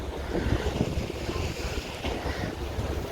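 Rough Marmara Sea waves churn steadily beside a waterfront promenade while strong wind buffets the microphone, a loud continuous roar with no voices.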